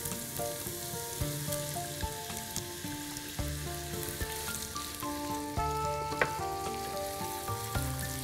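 Onions frying in a pan for caramelized-onion chicken, a steady close sizzle with light stirring scrapes, continuous and alone without any talk.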